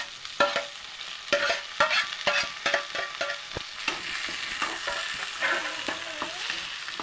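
Tomatoes frying in a pan with a sizzling bed and repeated scraping, clattering stirs from a spoon or spatula, close and steady, with no talking.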